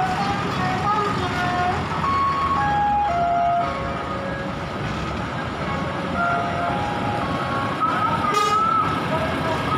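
A bus reversing alarm sounds as a series of repeated tonal beeps over a loud, steady rumble of engines and traffic, with voices talking throughout.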